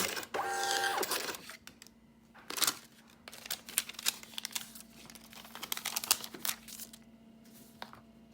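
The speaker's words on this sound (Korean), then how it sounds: "프로세싱이 진행이 되고 완료가 되면 프린터에서 영수증이 나오게 됩니다." A receipt printer at a card payment terminal prints a receipt after processing, giving a steady mechanical buzz with rapid clicking and feed whirring. It starts with a louder burst, then runs on for several seconds.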